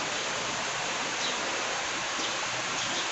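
Steady, dense rain hisses without a break, a broad wash of noise that stays even throughout.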